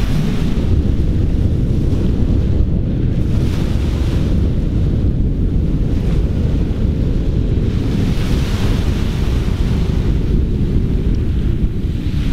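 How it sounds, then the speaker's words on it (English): Strong wind buffets the microphone at a shoreline while ocean waves roar and surge continuously, a loud, dense wash of rumbling noise with no pauses throughout. "Super big wind, a lot of waves today."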